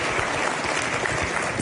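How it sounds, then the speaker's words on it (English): Audience applause at a chamber of commerce legislative luncheon, a dense, even wash of clapping that fills the room at steady loudness without pauses. "How about a nice round of applause?"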